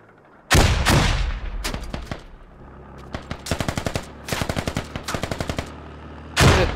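Gunfire and grenade explosions in the military video game Squad: two heavy booms open and close a sequence of loud, rapid machine-gun bursts and single shots, close and aggressive, with no talking.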